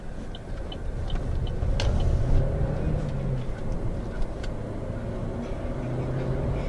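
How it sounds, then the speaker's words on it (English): A 2013 Chevy Sonic with a manual gearbox and turbo engine accelerating from inside the cabin, a loud steady low engine drone with road rumble, rising slightly as the turbo comes on. "if you rev it out, the turbo will spool up and you get some power"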